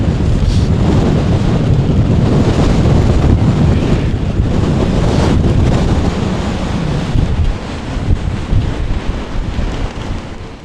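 Strong coastal wind at Muxía and Fisterra, a loud, continuous roar of gusts buffeting the microphone with surf and sea spray underneath, easing slightly toward the end, with no talk.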